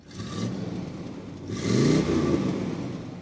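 A 1971 Buick Riviera boattail, an all-original car, idles and then revs, its engine note swelling after a steady start, with a soft mechanical whir and no talking over it.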